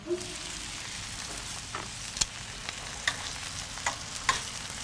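Pork roll sizzles on a small hot griddle with a steady frying crackle, punctuated by several sharp spatula scrapes and clicks as the slices are lifted off.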